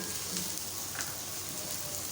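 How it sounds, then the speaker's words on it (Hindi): Onions frying in about three tablespoons of hot oil give a steady, soft sizzle that crackles evenly with no breaks and no talk over it. "ऑयल थोड़ा सा गर्म हो जाए तो साथ ही प्याज डाल दें।"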